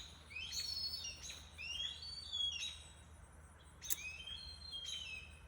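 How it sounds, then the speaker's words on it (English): A hawk gives repeated shrill, rising whistled calls in short bursts, several cries over a few seconds, fairly faint against quiet background noise with no talking. "There's that hawk. He's just having a fit."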